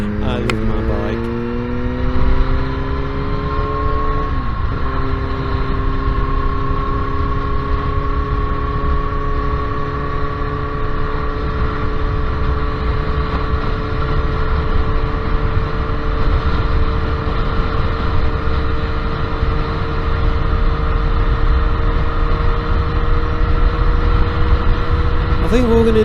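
A Suzuki GSX-R motorcycle rides along Lincolnshire country roads, its engine droning loud and steady with a rising pitch shift after a gear change, heavy wind rumble underneath.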